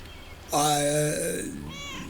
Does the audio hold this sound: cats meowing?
yes